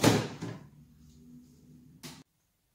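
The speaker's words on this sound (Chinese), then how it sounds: "你在北边的抽屉里找什么？" A drawer is pulled open and pushed shut during a search at home: a wooden scrape and knock, a quiet gap, then a second short clunk.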